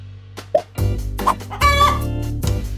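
A hen pecking at potato peels clucks in short, close, irregular bursts, with a few louder squawks mixed in and nothing else underneath.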